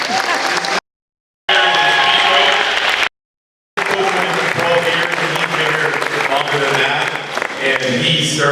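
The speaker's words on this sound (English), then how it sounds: "Let's have a round of applause for Mr. Crowley." Warm, continuous applause and some cheering from a crowd at an awards night for Mr. Crowley, loud and sustained, interrupted by two short dropouts, with voices mingling in the crowd noise.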